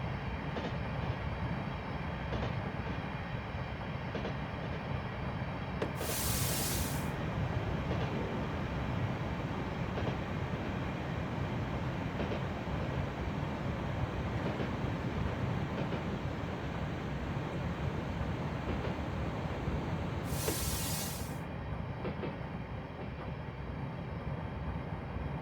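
A Sacramento Northern interurban electric train runs in a train simulator game, a steady loud rumble of wheels and motors with two brief hissing bursts along the way, and no voices.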